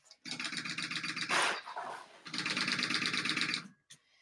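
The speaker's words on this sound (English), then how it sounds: "So now I'm just top stitching on that jelly with the seam underneath." A domestic sewing machine top stitches jelly vinyl over a seam in two steady runs of rapid whirring stitches, separated by a short pause with handling noise, close and fairly quiet.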